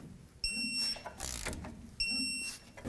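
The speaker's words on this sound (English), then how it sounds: "Now we'll torque these to 41 foot-pounds." A torque wrench tightens clamps to 41 foot-pounds, giving two sharp clicking bursts with a high ringing tone, close and moderately loud, separated by a rustling, clattering pause.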